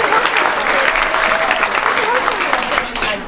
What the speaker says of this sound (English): Let's give a round of applause to our participants.